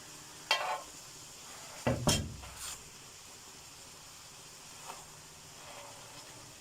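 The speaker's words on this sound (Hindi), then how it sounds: "बस मैं चम्मच दबा दबा के इसको खोल रही हूँ, साथ ये खुल जाए।" A spoon scrapes and presses against a chicken leg piece cooking in a tawa pan, a few short metallic scrapes with a light sizzle beneath, close and fairly quiet between strokes.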